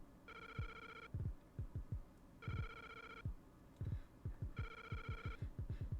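The Link's Awakening phone booth theme plays as a ringtone, three bursts of bright bell-like trills, each followed by a run of low thumping beats. The sound is clear and close, with no talking.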